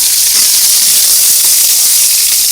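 Cumin seeds hit hot oil and set off a loud, steady, hissing sizzle that holds constant throughout without a break.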